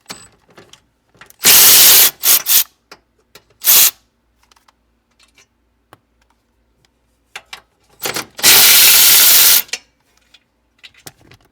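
A power tool, likely an impact driver, backs 10mm bolts out of the steering column of a 2003-06 Chevrolet Silverado during an interior swap, in several loud close bursts separated by quiet pauses, with no talking.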